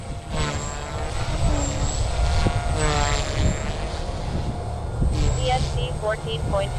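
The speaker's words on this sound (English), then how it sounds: "Helicopter will do anything you want it to do." A radio-controlled model helicopter's high-pitched rotor whine rises and falls steadily while someone talks over it nearby.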